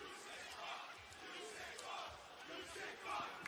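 Wrestling arena crowd chanting obscenities, a faint, distant mass of voices rising and falling in rhythmic chant-like swells.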